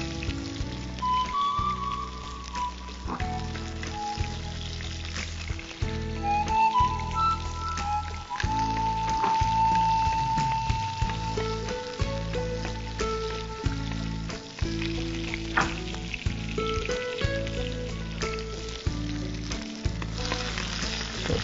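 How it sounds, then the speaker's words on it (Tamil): Small onions and capsicum frying in a pan, giving a steady close sizzle with occasional stirring scrapes and a faint music bed underneath. "சின்ன வெங்காயம் போட்டு லைட்டாக ரோஸ்ட் பண்ணிட்டோம். இந்த ஸ்டேஜில் வந்துட்டு கொஞ்சமாக வந்து குடமிளகாய் ஆட் பண்ணிக்கலாம்."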